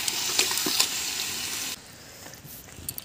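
Spice paste sizzling in a kadai over a wood fire, a bright, steady frying hiss with a few sharp crackles that drops abruptly to a quieter simmer as meat goes into the pan.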